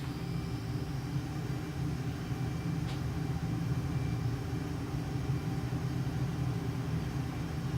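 In a flight game, a jet aircraft rolls for takeoff at full throttle with afterburners lit, giving a steady, continuous low engine roar with no talk.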